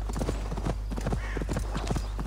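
A horse's hooves clip-clop in a steady, close trot in a video game, a rapid even rhythm of hoofbeats over a low background rumble.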